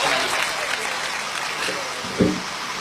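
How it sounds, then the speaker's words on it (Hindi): A crowd claps continuously, a dense rattle of applause with a few sharper claps standing out near the end. "लगातार तालियां बजती रहनी चाहिए,"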